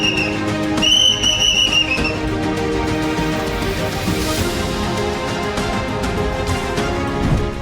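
A whistle blown during an election campaign in Murshidabad, West Bengal, the party's symbol, gives two short shrill blasts early on against a loud, busy crowd and street din.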